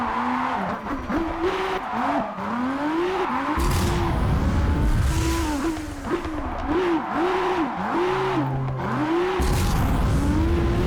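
Car engine in the video game JDM revving and shifting through gears in a rising, repeating pattern as it understeers, loud and close, with tire scrub and no talking.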